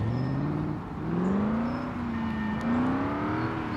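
Revving V8 engine of a car in the Construction Simulator video game, a steady throaty drone rising and falling in pitch as the throttle shifts, loud and continuous with no talking.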